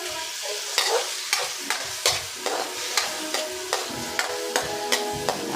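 Tomatoes are crushed in a frying pan while they sizzle, with a spatula scraping and knocking against the pan in a steady rhythm of about two strokes per second, close and loud.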